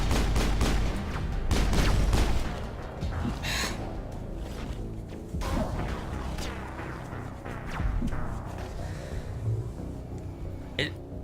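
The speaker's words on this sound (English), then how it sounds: "Who is shooting at me?" Video-game gunfire in Mass Effect crackles in repeated sharp bursts and volleys, loud and close, over a steady rumbling backdrop for the whole stretch.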